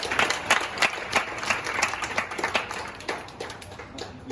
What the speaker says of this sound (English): Let's give a round of applause for Yejun.